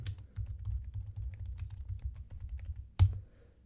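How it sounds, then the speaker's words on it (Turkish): Rapid typing on a computer keyboard while adding cards to a Trello task board, a steady stream of close, light key clicks with one louder keystroke near the end, no voices. "Enter tuşuna bastığımda yeni bir tane daha kart açıyor"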